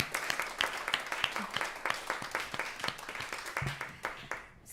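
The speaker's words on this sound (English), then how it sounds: "Another round of applause" Audience applause at a live stage performance, a steady patter of many hands clapping close and fairly loud, holding through the whole stretch before tapering slightly at the end.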